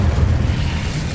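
Incendio fire spell from Hogwarts Legacy, a loud, dense whooshing burst of flame with a deep rumbling low end that holds steady for about a second, up close and alone.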